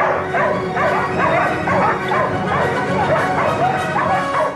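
An Australian working dog barks and yips repeatedly at close range, loud and excited, with whimpering tones between barks.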